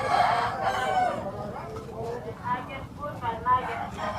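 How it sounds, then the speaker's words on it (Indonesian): Chickens cluck and a rooster crows amid the busy hubbub of a Sunday market in Telaga, Gorontalo, the birds close by and partly buried under steady crowd chatter and someone talking. "Nah, ini ada ayam."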